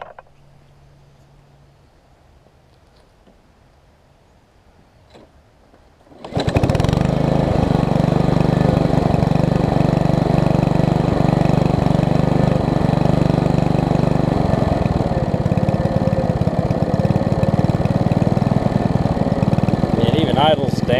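A Honda Harmony HRB215 push mower engine starts after a few seconds of quiet and then runs steadily and loudly, settling into an even idle for the rest of the clip.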